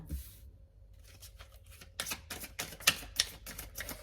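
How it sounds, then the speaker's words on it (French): A deck of playing cards is shuffled close by, quiet at first, then a run of quick crisp riffling snaps and flutters with no talk. "où je bats les cartes"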